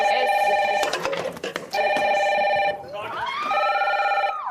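A red telephone rings in a house, sounding as two loud trilling bursts with a short gap between them. Voices chatter and move around underneath, and a third ring starts near the end.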